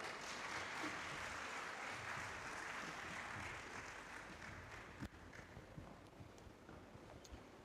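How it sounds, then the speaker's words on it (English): At an investor summit in Uganda, an audience applauds for a session moderator, a broad wash of clapping that is strong at first and then thins and fades, with a few sharp knocks near the end. "A round of applause, please."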